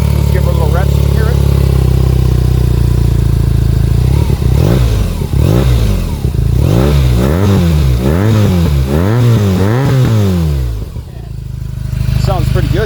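A 2022 BMW R NineT Pure boxer twin with its stock factory exhaust sits idling, then is blipped through a quick series of rhythmic revs that rise and fall, close and loud, before dropping back to idle.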